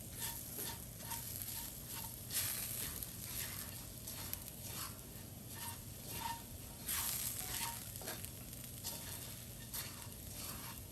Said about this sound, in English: lower your heat to medium and we're just gonna now keep stirring until it like really crisps back up